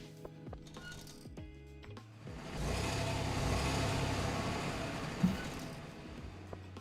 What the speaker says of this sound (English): that bus is driving really fast